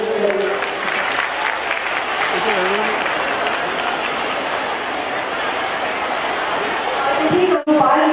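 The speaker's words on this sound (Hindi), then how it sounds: "माननीय मुख्यमंत्री जी के लिए जोरदार तालियां पेश करेंगे" A large crowd gives the chief minister loud, dense applause at a Nari Shakti Vandan women's conference in Hathras. The clapping holds steady for about eight seconds and ends with a brief dip near the close.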